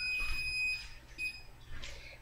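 A kitchen timer sounds in a kitchen, giving a steady high electronic tone that stops briefly and then starts again, with a faint hiss from a spray can.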